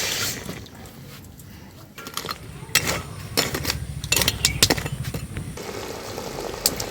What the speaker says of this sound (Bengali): হাফ বাটি জল দিয়ে দেবো।